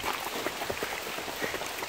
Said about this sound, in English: Okay, shit is raining.